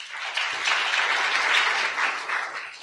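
Audience applause at a Food is Medicine summit, a steady wash of clapping hands lasting the whole stretch, moderately loud and unbroken with no voices on top.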